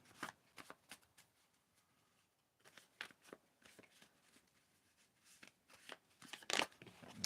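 A deck of cards being shuffled by hand without a riffle, in quiet bursts of soft ruffling and tapping with brief pauses between, close and faint.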